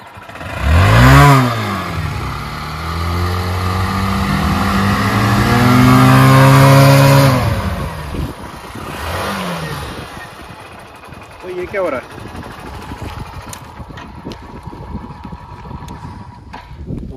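Two motorcycle engines with connected silencers rev up loudly and rise in pitch, then settle and rev again, close by, with a few short bursts afterward.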